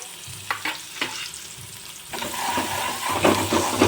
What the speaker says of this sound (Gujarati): ને ડુંગળી આપણે એટલી વાર સાતળવાની છે કે ગોલ્ડન બ્રાઉન થઈ જાય ત્યાં સુધી આપણે ડુંગળી સાતળવાનું છે